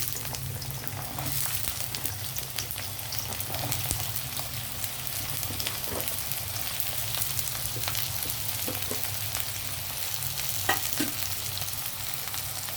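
Ingredients for a mutton and drumstick curry fry steadily in plenty of hot oil, a continuous close sizzle with occasional louder crackles and pops throughout, no voices.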